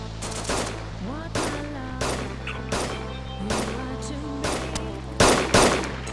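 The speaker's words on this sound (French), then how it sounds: "On me tire dessus." Video game gunfire rings out in repeated short bursts, several loud volleys spaced about a second apart over a constant low engine-like drone.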